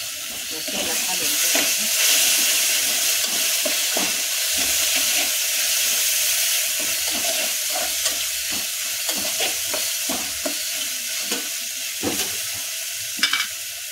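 Food fries in oil for a drumstick (moringa pod) curry, a loud, dense, continuous sizzle and hiss with repeated stirring scrapes throughout, close to the pan and without speech.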